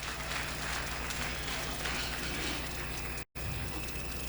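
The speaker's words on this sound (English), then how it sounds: "Let's encourage him. Keep clapping, keep clapping, keep clapping." Clapping from a crowd at a budget consultative forum in a hall, a steady, fairly quiet wash of applause with a brief dropout near the end.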